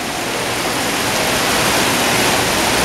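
A fountain inside a shopping mall splashes continuously, a loud, close, unbroken rush of falling water with no voices.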